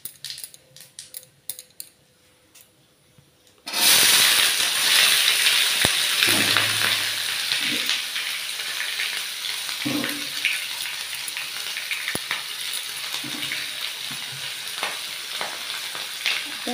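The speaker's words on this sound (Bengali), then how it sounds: "পেঁয়াজটা ভাজা হচ্ছে" Onions and cumin seeds fry in hot oil in a pan for chicken curry, a loud steady close sizzle that starts abruptly and continues throughout, with occasional stirring scrapes and no talking.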